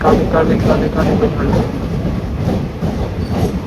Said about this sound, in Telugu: welcome to Mangalagiri railway station